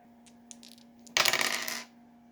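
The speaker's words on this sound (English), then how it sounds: "let me get my dice here, and we'll roll the dice again" Dice rolled for a tabletop game tumble onto a hard surface: a burst of clattering rattles lasting about a second after a few faint clicks, fairly close and alone.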